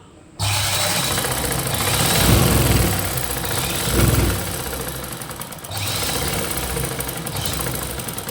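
Stitching a blouse side seam, a sewing machine starts almost at once and runs with a loud, steady mechanical whir and a pulsing beat, easing briefly partway through before carrying on close and continuous.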